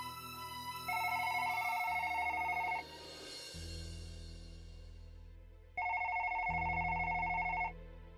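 A telephone rings in two long electronic bursts separated by a pause, with a steady low hum underneath and no talking.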